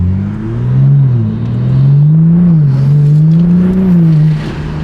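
Toyota car accelerating hard at a JDM and exotic car meet, a loud, close engine roar whose pitch climbs, wavers through shifts and climbs again before dropping off at the end.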